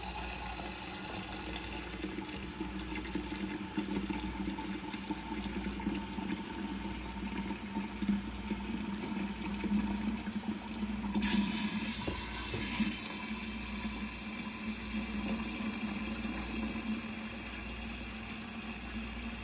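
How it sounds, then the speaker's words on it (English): Hot water runs from a tap onto a quarter cup of baking soda for homemade laundry detergent, a steady close rushing stream over a low droning hum that shifts partway through. "I'm going to add hot water to this and then give it a quick stir."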